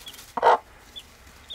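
A hen gives a single loud, close cluck, followed by faint high peeps from chicks nearby.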